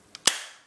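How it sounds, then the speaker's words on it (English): A Stinger P311 airsoft pistol fires one loud, sharp snap, with a small click just before it and a short decaying tail, and nothing else is heard. "P311, this one's pretty loud,"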